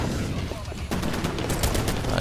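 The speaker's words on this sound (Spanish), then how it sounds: "a ver si me escapo de unos disparos" Rapid gunfire rattles through a Titanfall Attrition match, bursts of shots crackling densely over the game's background noise, with a voice speaking intermittently beneath.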